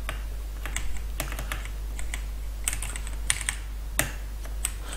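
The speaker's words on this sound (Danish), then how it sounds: "Hvis I gerne vil vide, hvilket tastatur det er, så er det et Black Widow Ultimate Steel." Fingers type on a Razer BlackWidow Ultimate Stealth mechanical keyboard, sharp clicky keystrokes in short irregular bursts, close and clear over a steady low hum.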